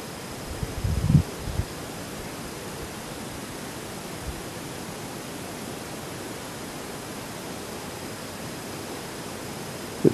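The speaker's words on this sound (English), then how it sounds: "The wind's starting to come on again." Night wind moving through trees in gardens, a steady broad rushing hiss that stays even and fairly loud throughout, with a few low thumps near the start and no voices.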